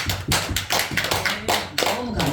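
A church congregation during a Sunday afternoon worship service claps in a burst of sharp, irregular, close hand claps, dense and loud, with some voices mixed in.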